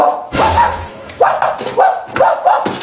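A person imitates a dog, barking out four short, loud woofs in an uneven rhythm, close up.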